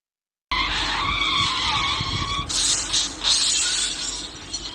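A loud car skid with squealing tires, followed by a sharp crash of breaking glass and debris as the vehicle smashes into a shop.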